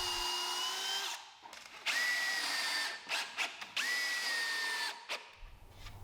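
A power drill drives stainless steel Spax deck screws into a wooden outdoor chair, with several loud whining bursts that ramp up and stop abruptly, separated by short pauses and handling clatter.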